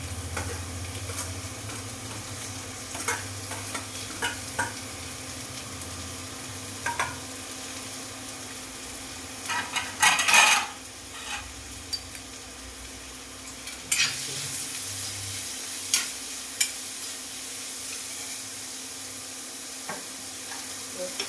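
Onion and green chili fry in a pan as a steady sizzle with occasional stirring scrapes, fairly close, a few louder clatters midway, no talking.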